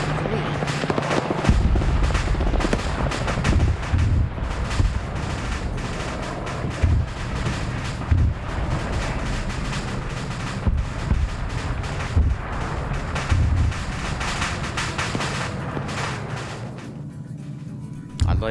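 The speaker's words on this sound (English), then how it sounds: "so that's just airstrikes going on" Airstrikes and gunfire in a WW2 game set on the German–Soviet front: a dense, continuous barrage of explosions and rapid shots, loud and close throughout, with occasional talk mixed underneath.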